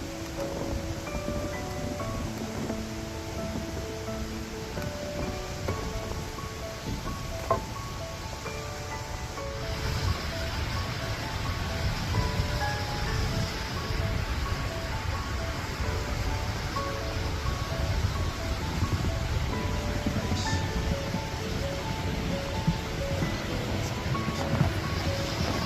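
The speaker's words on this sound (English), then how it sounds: "here's one of the waterfalls" Waterfall in Fallbrook Gorge at Salt Springs State Park, a steady broadband rush of falling water heard at some distance, with faint wind and tonal background sounds layered over it.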